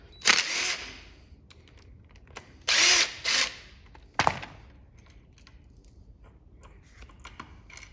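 Impact driver working bolts on a Mototec X3 125cc dirt bike, heard as a few short, loud bursts of whirring and rattling hammering, separated by pauses filled with light metallic clinks of parts and tools.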